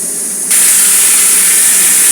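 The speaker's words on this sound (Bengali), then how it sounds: "এখানে 2টো শুকনো লঙ্কা দিচ্ছি, কালো জিরে দিচ্ছি, একটু রাঁধুনি ফোড়ন দিচ্ছি" Dried red chillies, nigella seeds and radhuni dropped into hot oil left from frying fish, bursting into a loud, steady, hissing sizzle that starts abruptly and continues without pause.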